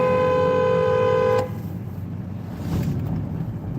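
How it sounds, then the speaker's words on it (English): A loud, sustained car horn blares steadily for about a second and a half, then cuts off, leaving low background rumble and traffic noise. "My horn is loud."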